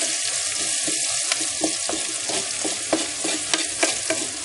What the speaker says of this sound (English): You want the onions to brown slightly, but more get translucent and soft.